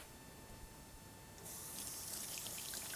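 Tap water switches on halfway through and runs in a steady close splash as hands are rinsed under it, following a quiet stretch of room hiss.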